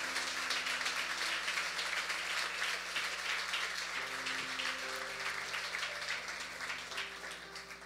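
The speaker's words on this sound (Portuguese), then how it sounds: "Vamos dar mais uma salva de palmas?" Congregation applause fills a church service, a steady dense wash of clapping across the whole stretch, with sustained organ or keyboard tones underneath that shift partway through.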